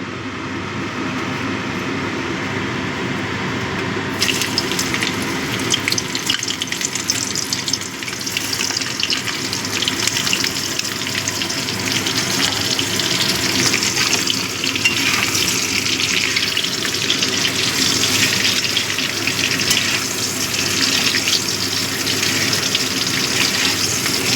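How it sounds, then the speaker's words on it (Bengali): Cauliflower frying in hot oil for a vegetarian mixed-vegetable curry, a loud, continuous crackling sizzle that jumps up sharply after a few seconds as the pieces hit the oil, then holds steady with occasional stirring scrapes. "তেলটা ভালো মতো গরম হয়ে গেছে। এবার আমি প্রথমে ফুলকপিটা ভেজে নেব।"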